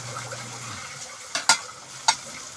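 Onions sautéing in oil in a pan for eggplant adobo: a faint, steady sizzle with two sharp clinks of a utensil against the pan near the middle and end.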